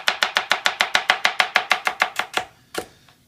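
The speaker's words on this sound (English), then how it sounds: "I'll cut them in half just to make it easier to push" A kitchen knife chops steadily on a cutting board, cutting food in half for a chicken and rice dish, with about sixteen quick, even, close strokes that stop, followed by one last sharper knock.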